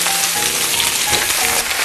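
Garlic and washed spinach sizzle in hot olive oil in a pan, a loud, dense, steady crackle and hiss that continues without pause, close to the listener.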